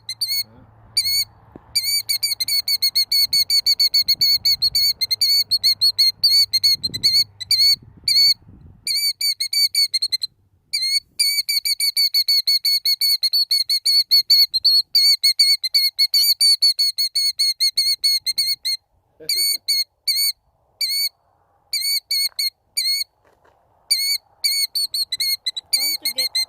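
Killdeer calling repeatedly in sharp, rapid whistled notes while defending its eggs, loud and close, running almost continuously with a few brief gaps; faint talk and handling noise sit underneath early on.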